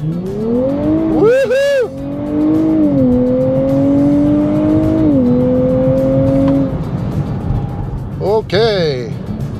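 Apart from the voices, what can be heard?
2023 Nissan Z launching hard from a standstill in sport mode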